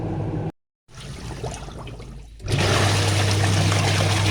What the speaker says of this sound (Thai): เดี๋ยวลองเอา น้ำใส่ดูนะครับ จะได้รู้ว่า ข้างล่างนะครับใต้แกนมีน้ำรั่วซึมหรือเปล่านะครับ